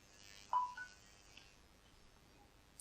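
Qi wireless charger gives a short electronic chirp as a phone starts charging, one brief tone followed by a second fainter beep, close and quiet against a near-silent room.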